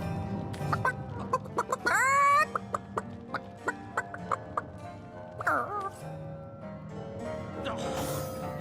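Chicken clucking in the role-playing game Divinity Original Sin, a string of sharp, evenly spaced clucks with two louder squawking bursts, set against constant game ambience and a faint voice.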